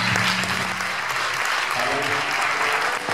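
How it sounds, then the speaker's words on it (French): A church congregation claps and cheers loudly for Jesus, with dense, sustained applause and scattered shouts that fill the space steadily from start to finish. "Tu peux acclamer Jésus très fort."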